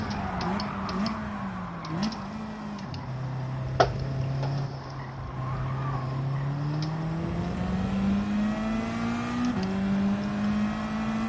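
A Gran Turismo 7 race car engine holds a steady drone, then rises and falls in pitch as it revs and accelerates while the driver warms the tyres. The engine note runs continuously and moderately near, with faint ticking over it.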